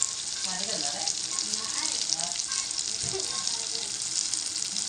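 Oil heating in a pan on a home stove for butter paneer, a steady close hiss and sizzle running continuously without a break.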